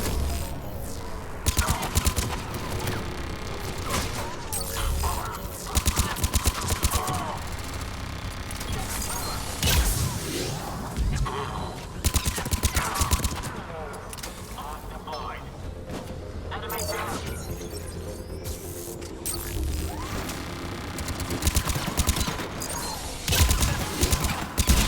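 Gunfire from Mass Effect 3 Legendary Edition, with turret shots and repeated bursts crackling through a busy, dense battle mix while a player speaks over it.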